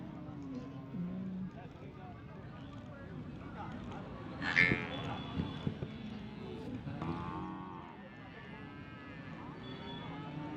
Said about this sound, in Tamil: நம்ம சேலம் மாவட்டம் முத்தனாம்பட்டி மாட்டு சந்தைக்கு வந்திருக்கோம்